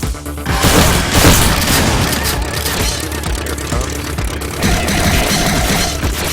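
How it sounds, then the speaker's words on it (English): A ghost missile effect in the video game Skycurser bursts into loud booming blasts, dense and layered over a rumbling game soundtrack. "Notice when I hit the ghost missile right now, the effect occurs right on top of the Skycurser."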